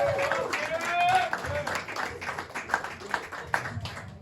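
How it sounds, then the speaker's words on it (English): Audience clapping for stand-up comedian Diego Gomez at a Costa Mesa comedy show, a steady patter of hands with some whoops and a voice talking over it. "Clap it up for him"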